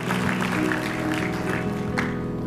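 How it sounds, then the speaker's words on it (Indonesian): A church congregation applauds together, a steady wash of clapping that holds for a couple of seconds with faint voices mixed in. "Tepuk tangan. Tepuk tangan."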